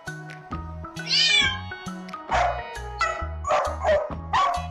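A single cat meow comes first, then a dog barks several times in a rapid, uneven run, close and fairly loud over a light musical backing.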